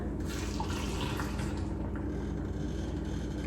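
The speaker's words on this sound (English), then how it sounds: "I'm just going to take and fill the jar with some hot water" Hot water runs into a jar in a steady, low, gurgling pour that holds at an even level throughout, with no voices over it.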